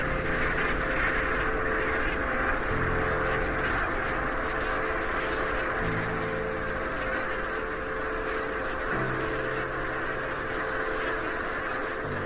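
A large flock of brant geese calls continuously at a marine lagoon, a dense chorus of honking and croaking notes layered together, loud and steady throughout.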